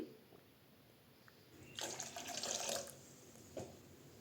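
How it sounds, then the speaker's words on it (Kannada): Water poured into a pan of tomato puree for temple-style tomato rasam: a quiet, roughly one-second splashing pour, then a brief small splash shortly after, in an otherwise hushed kitchen. "ನಿಮಗೆ ರಸಮ್ ಎಷ್ಟು ಬೇಕು ಕ್ವಾಂಟಿಟಿ ನೋಡಿಬಿಟ್ಟು ನೀರು ಹಾಕ್ಕೊಳ್ಳಿ"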